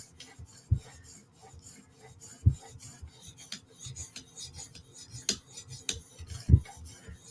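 Steel blade drawn across a sharpening stone to take off the burr, giving soft rasping strokes with a few sharper scrapes at irregular intervals, close and fairly quiet.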